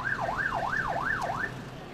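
An ambulance siren wails at the scene of a work-platform collapse on the Hong Kong–Zhuhai–Macau Bridge construction site, with about four rising and falling sweeps heard at moderate distance over a low background rumble.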